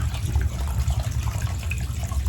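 Tap water runs steadily into a kitchen sink while a large rohu fish is rinsed, a continuous low splashing rush with no voices.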